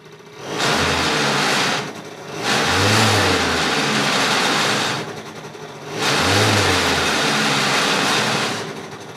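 A Roughhouse 50cc two-stroke scooter engine with no spark revs hard in two long bursts, easing between them, loud and close with no voices.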